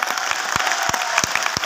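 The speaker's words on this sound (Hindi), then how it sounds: "इतनी तेज ताली बजाना" Live audience at an Azadi Mahotsav motivational talk in Jaipur, Rajasthan, bursting into loud, sustained applause with sharp claps and scattered cheers, no speech over it.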